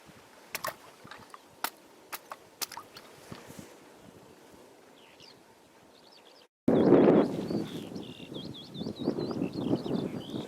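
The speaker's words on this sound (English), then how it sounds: "Grass absolutely alive with birdsong." Birdsong over a mountain grassland in the Black Mountains, with a few sharp clicks and rustles at first, then after a brief cut a louder, busy mix of chirps, trills and wind noise close by.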